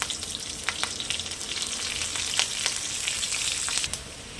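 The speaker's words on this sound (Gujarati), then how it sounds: "આ વઘાર આવી ગયો છે એટલે આપણે આમાં 2 નંગ મરચાં નાખી દઈશું." Two chillies drop into hot tempering oil (vaghar), setting off a steady loud sizzle and crackle with sharp spattering pops throughout.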